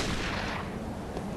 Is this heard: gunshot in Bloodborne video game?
yes